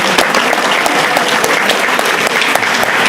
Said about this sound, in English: A big round of applause for Ronan.